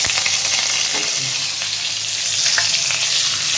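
Hot oil with butter sizzles loudly in a pan while Jain pav bhaji is being cooked, a dense, steady hiss close to the listener with faint stirring clinks and no speech.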